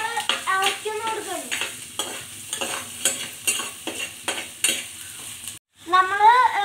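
Sliced onions frying in coconut oil in a hot pan with fennel seeds and cardamom. A continuous sizzle runs under repeated scraping stirs from a spoon, with a short break before the stirring starts again.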